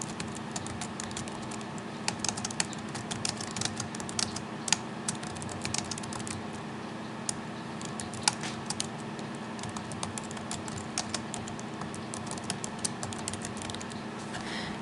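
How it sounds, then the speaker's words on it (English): Steady computer keyboard typing with irregular clicks and key taps running throughout, close and fairly quiet, with no voices. "highlight, and I will write my title"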